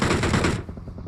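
Gunfire in PUBG Mobile: a loud, close burst of rapid automatic fire that cuts off abruptly into a short, fading tail.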